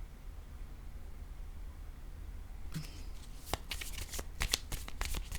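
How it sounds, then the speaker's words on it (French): A deck of cards is shuffled and a card drawn during a card reading: quiet room tone, then a close, crisp burst of riffling and snapping card sounds for the last few seconds. "Je vais piger une autre carte ici pour m'aider à être dans le contexte."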